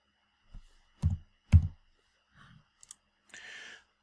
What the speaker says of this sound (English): I'm trying to click over here.